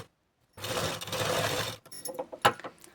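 Sewing machine running a straight stitch down the side seams of a princess-cut blouse, a loud continuous mechanical whir for about a second after a short silence, then a scatter of clicks and handling knocks.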